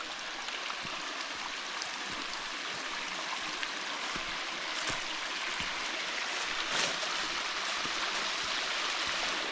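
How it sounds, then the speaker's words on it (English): Water spreads out and flows down rock ledges at Quillan Cascades in Alabama's Sipsey Wilderness, a steady close rushing wash with small splashes and trickles throughout. "water just spreads out and flows down the rocks"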